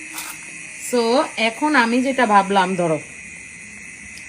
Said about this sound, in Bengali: ঝিঝি পোকা ডাকতেছে বাইরে